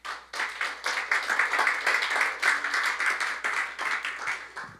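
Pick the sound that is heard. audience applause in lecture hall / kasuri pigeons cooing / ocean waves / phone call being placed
audience applause in lecture hall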